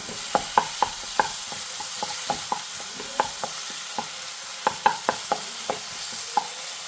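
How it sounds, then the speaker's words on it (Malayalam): A spoon stirs chicken curry masala with Kashmiri chili powder in a pan, making a steady series of sharp scraping clicks against the metal over a faint low sizzle, with no talking. "ഇനി നന്നായി ഇളക്കി കൊടുക്കുക മസാല ഇതിൽ പിടിച്ചു വരട്ടെ"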